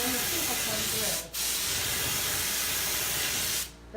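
A paint spray gun spraying blended pink and white paint, two long loud hissing bursts with a short gap between them, close and steady, ending abruptly.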